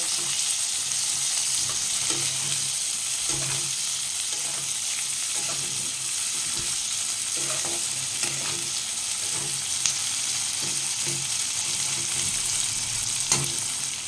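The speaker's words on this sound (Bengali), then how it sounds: "পেঁয়াজটা ভালো করে ভেজে নেব।" Onions fry steadily in a pan for a chicken jhol, giving a constant close sizzle with scattered scraping stirs and light clicks throughout, with no talking.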